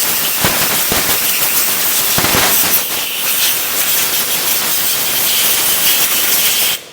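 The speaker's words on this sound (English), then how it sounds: "Let's finish the drying process with forced air." Forced air blasts across a minivan's plastic trim to dry it after washing, a loud, steady rushing hiss with a few sharp pops early on, cutting off abruptly just before the end.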